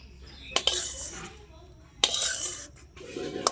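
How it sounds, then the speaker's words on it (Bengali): A metal spatula scrapes and taps against a plate while smoothing and shaping carrot sweet, two short bursts of clinking scrapes separated by a quiet pause, close and fairly clear. "এই খুন্তি দিয়ে যতটা সমান করা যায় সমান করে করে আমি বসিয়ে দিচ্ছি।"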